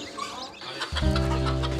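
Hens of varied breeds from around the world cluck at a poultry farm in the Landes, with a few short clucks and chirps followed by a denser, louder burst of clucking, fairly close.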